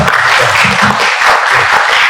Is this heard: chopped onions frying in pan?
no